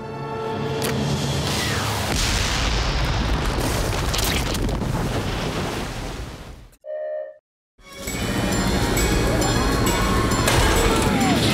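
Missile launch and explosion from the animated Thunderbirds Are Go series involving FAB 1: a loud, sustained rumbling blast roars continuously, cuts to a brief near silence, then surges back just as loud.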